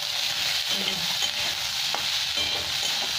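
Onion pieces and capsicum frying in a pan for a dry egg chilli, a continuous hissing sizzle with occasional stirring scrapes and clicks of the utensil, close and steady, no voices.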